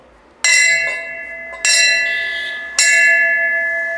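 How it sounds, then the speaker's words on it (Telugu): A temple bell at the Sabbavaram Mutyamamba temple in Anakapalli is struck three times at a slow, even pace, each loud, bright ring hanging and fading before the next. "అమ్మవారిని పిలుపు ఘంటానాదంతో"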